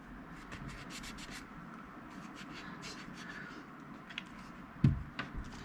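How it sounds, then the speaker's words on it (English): An alcohol wipe rubs across a camera body around its internal microphones, giving soft, close scratchy strokes with a sharper bump near the end, quiet and without speech. "we're going to want to clean the surface around the internal microphone, both internal microphones."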